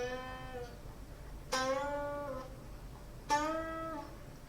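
Guitar string bends played bare with no effects, each note sliding in pitch and released while still ringing; three clean, moderately quiet phrases with no talking.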